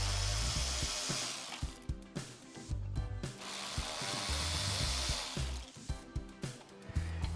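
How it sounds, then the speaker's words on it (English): Removing T15 bolts inside a car fender well, heard as close ratcheting and scraping tool sounds with bursts of rubbing and clicking, irregular and fairly loud. "you're going to locate the T15 bolts inside the fender well, and you're going to pull the bottom three."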